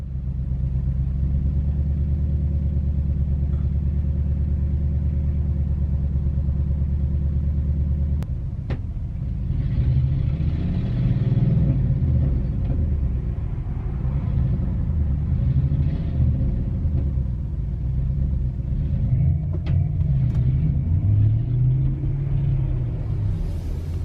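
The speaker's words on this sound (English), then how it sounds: "This pickup truck next to me is having serious trouble." A struggling pickup truck engine idling roughly at a road intersection: a deep, steady rumble that grows louder and more uneven partway through, heard from a nearby vehicle with no talking.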